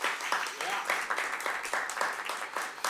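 An audience at an awards ceremony applauds steadily with dense, continuous clapping, loud and close throughout.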